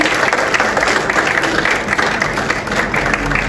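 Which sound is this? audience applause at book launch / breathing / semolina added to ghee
audience applause at book launch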